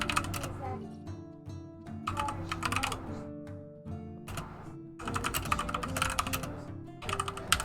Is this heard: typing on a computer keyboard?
yes